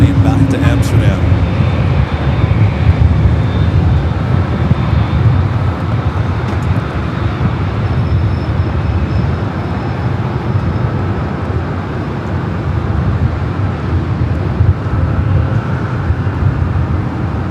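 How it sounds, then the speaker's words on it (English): KLM airliner on flight 602 to Amsterdam at LAX, a continuous loud engine rumble and roar held steady throughout, with people talking over it. "All right, KLM flight 602, the flight heading back to Amsterdam."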